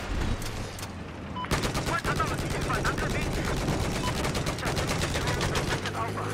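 Battlefield 4 gunfire during a large conquest match, dense rapid automatic bursts and shots nearly continuous and loud, with a player talking over the shooting.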